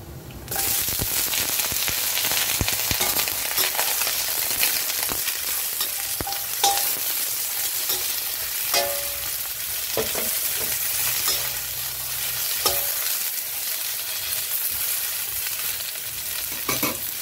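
Sliced bitter gourd (ampalaya) stir-fries in a hot pan, a steady loud sizzle running throughout with frequent scraping and clacking of the spatula, no voices.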